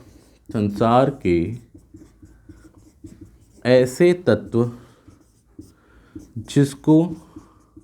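Marker or chalk writing on a board during a lesson, with faint strokes and taps under a teacher's intermittent speech.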